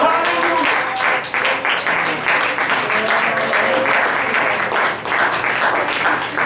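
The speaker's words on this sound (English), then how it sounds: "just clap our hands to the Lord." A church congregation claps steadily and energetically in unison during a worship service, a dense loud wash of hand claps with faint voices mixed in.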